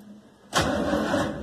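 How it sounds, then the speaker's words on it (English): An old car engine that has sat unused for 20 years cranks over on its starter, a sudden loud, steady churning that starts abruptly and continues alone. "my starter works. Engine cranks over."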